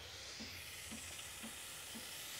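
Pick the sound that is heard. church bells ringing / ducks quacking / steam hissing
steam hissing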